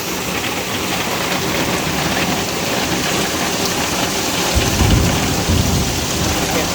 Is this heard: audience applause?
no